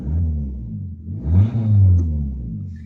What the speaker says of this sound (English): you get some nice little crackles from the exhaust